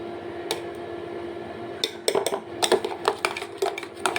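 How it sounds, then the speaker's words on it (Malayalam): A metal spoon stirs coffee powder into sweetened milk coming to a boil in a pot, giving a quiet simmering base and then a run of sharp, irregular clinks against the pot's side, close and fairly loud. "1 ടീസ്പൂൺ കോഫി പൗഡറും ഇട്ട് ഇളക്കി കൊടുക്കും."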